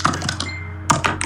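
Mechanical computer keyboard being typed on, a quick burst of close, sharp clacking keystrokes, a brief pause, then another short flurry of clicks.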